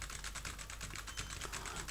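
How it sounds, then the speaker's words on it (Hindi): Paragraph text being typed on a computer keyboard in CorelDRAW 2012, a quick, regular stream of soft key clicks, close and low in level, with no voices. "कुछ इस तरीके से मैं कुछ यहाँ पर कुछ टेक्स्ट टाइप कर देता हूँ"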